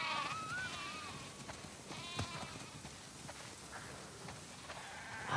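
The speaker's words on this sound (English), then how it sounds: "Wow, that's a lot of sheep." Several sheep in The Last of Us Part II bleat in wavering, overlapping cries against a busy background, one call standing out early and others following at moderate loudness.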